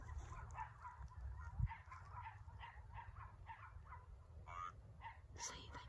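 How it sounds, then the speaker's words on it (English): Dogs bark at night near a cemetery, a run of rapid, fairly distant yaps and barks with a whimpering tone, faint over low rumbling background noise. "These dogs are going crazy."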